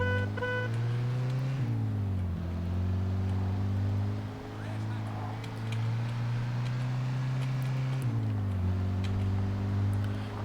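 A car in Mafia 2 accelerates through a city, its engine droning loud and steady with rising pitch, dipping briefly at two gear changes around two and eight seconds before climbing again; no talk over it.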